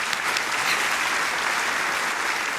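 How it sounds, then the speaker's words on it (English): Audience applause at the 2023 Positively Milwaukee Awards, a steady, dense wash of hand clapping holding at even loudness throughout with no voices on top. "Yes, we can applaud that."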